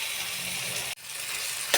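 Onions frying in hot oil for a curry tempering, a steady close sizzle that cuts out briefly midway, then resumes with a sharp hiss as more goes into the pan.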